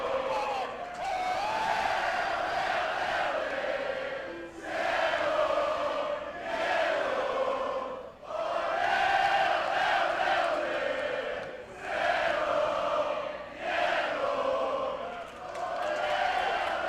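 A large wrestling arena crowd roars and cheers in sustained loud waves with brief dips, during a tag-team match featuring The Great Muta and Penta El Zero M.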